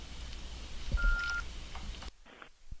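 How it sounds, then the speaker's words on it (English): A single steady electronic beep tone sounds briefly amid low background hum, followed by quieter room noise. "What is beeping on phone?"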